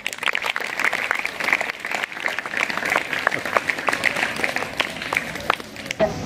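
Sustained clapping from an audience at a school ceremony for Swami Vivekananda and Rajmata Jijau jayanti, many hands at an even, lively pace filling the whole stretch, with little talk over it.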